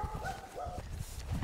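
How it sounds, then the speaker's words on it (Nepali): A dog barks a few times close by along a blocked path, short sharp yelps over outdoor background noise, with no talking. "यता कुकुर भुया छ यार"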